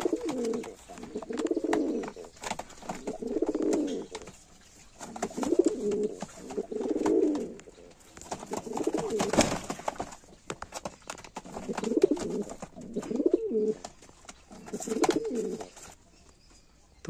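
Madras pigeons cooing in a rhythmic series of low, throaty coos, repeating every second or two at close range with no talk over them.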